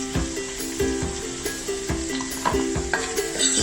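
Onions fry in a pan with a continuous bright sizzle, punctuated by regular soft knocks and scrapes of stirring every half second or so, close and without talk.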